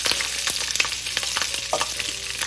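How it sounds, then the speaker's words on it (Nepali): Fenugreek seeds, cumin and three chillies hit hot oil for a tomato paneer pickle, giving a steady close sizzle and crackle with a few spoon stirs and no talk. "तेल तातेपछि मैले यसमा राखेँ आधा सानो चम्चा मेथी, मैले राखेँ आधा सानो चम्चा जिरा, 3टा खुर्सानी।"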